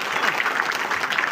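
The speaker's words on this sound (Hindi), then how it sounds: "तालियों की गड़गड़ाहट बिल्कुल नहीं रुकनी चाहिए" Brief burst of sustained audience applause at an academic excellence award ceremony, thick and even clapping from a crowd, fairly loud.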